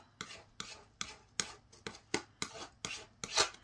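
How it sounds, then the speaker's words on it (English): Scraping of acetone-softened nail product off a nail, heard as eight evenly spaced rasping strokes about every half second, close and fairly quiet, with no talk. "Scrapes off pretty easily once the acetone just sits on it."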